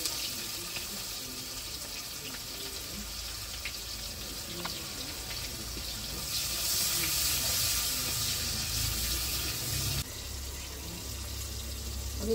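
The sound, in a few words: chopped onions frying in oil in a wok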